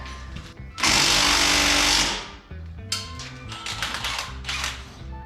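Pneumatic impact gun removing U-bolts on a Jeep CJ-7, one loud, sustained rattling burst of about a second up close, followed by shorter clattering and rattling sounds.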